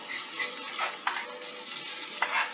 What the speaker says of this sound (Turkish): Cız cız sesi geliyor vallahi.